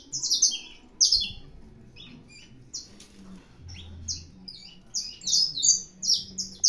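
Canários-da-terra sing inside a breeding aviary with bright, high chirps and trills in repeated bursts, loud and close, separated by brief quieter gaps.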